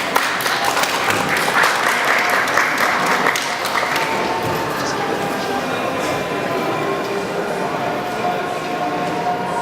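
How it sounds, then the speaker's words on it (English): An audience applauds after a speaker is introduced, with dense, loud clapping that holds steady for several seconds before thinning slightly and continuing. "So let's give a round of applause for Kristin."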